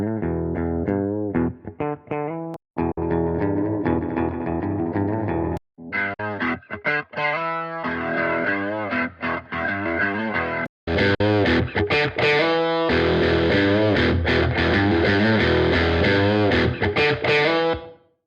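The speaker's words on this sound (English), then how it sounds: "I can cycle through some of the different tones in the library, and it will change the tone on the recording" Electric guitar recorded direct into Logic Pro X, played as loud distorted riffs and chords that switch between amp tones, with brief gaps between phrases and a steadier, fuller stretch toward the end.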